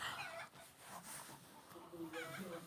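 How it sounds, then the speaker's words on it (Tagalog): Faint chicken clucking amid noisy background activity and rustling, with scattered short calls from a few birds at a distance. "Tapos sobrang ingay ng manok."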